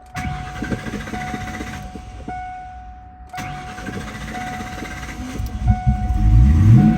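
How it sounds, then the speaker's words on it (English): A 1997 Ford Mustang GT with 20,000 miles cranks and catches, drops out briefly, then starts again and settles into a low, steady idle that swells toward the end. "I'll start it up for us real quick here."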